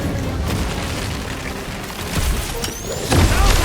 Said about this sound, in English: Gunfire! Don't worry about it! Most of it's mine!